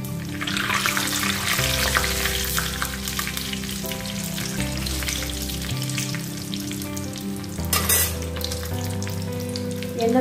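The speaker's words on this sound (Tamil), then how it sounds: "இப்போ வந்து நான் தாளிப்பூட போட போகிறேன்" Whole spices for a banana flower curry crackle and sizzle steadily in a generous pool of well-heated oil, a continuous close frying hiss running beneath steady tonal background music, with one brief sharper burst near the end.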